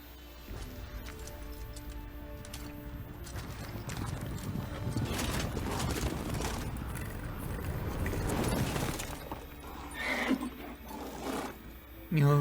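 A horse in The Witcher 3 clip-clops in a game scene, its hoofbeats running under loud growling and roaring creature noise that swells in the middle, with a voice speaking over part of it.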